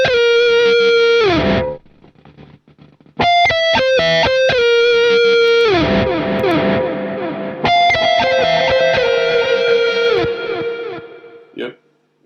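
Dry electric guitar lead lines played through an amp plugin with reverb and delay switched off, sustained bent notes and quick phrases with distorted, bright tone and abrupt stops, loud and upfront.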